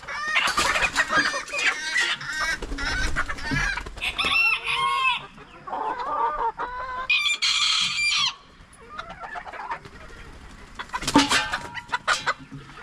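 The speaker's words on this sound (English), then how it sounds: "Look at the hens." Hens on a small Tennessee homestead cluck and squawk loudly and close by, with bursts of overlapping calls and at least one rooster-like crow among them, and quieter gaps between the outbursts.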